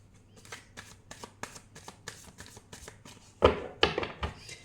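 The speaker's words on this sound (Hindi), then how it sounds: "पहले हम 3 बार शफल करते हैं कार्ड" Tarot cards being shuffled by hand, a run of quick papery riffles and taps that builds into louder flutters near the end, close and alone without speech.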